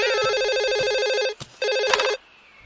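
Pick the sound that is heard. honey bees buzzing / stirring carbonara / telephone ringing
telephone ringing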